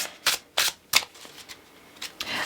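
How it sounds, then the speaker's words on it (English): A deck of tarot cards is shuffled by hand in several quick, crisp riffling bursts, close up, with short pauses between them. "I'm going to do my shuffles here"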